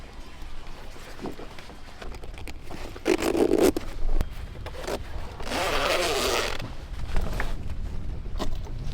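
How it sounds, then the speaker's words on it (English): Zippers being run along the edges of solar panels to fasten them into sewn strips on a boat awning, heard as several close ripping zip passes with scraping and handling noise in between. "so that we can zip it into these things that they sewed into the awning."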